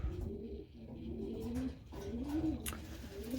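Pigeons coo steadily inside a loft holding about fifty hungry birds, their soft rolling calls overlapping close by in a continuous murmur, with a brief flutter or scrape partway through.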